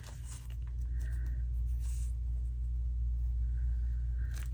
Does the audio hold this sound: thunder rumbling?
yes